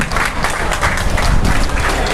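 Dense audience applause fills a hall after a Tamil speech on Periyar and women's rights, steady clapping from many hands throughout with no voices above it.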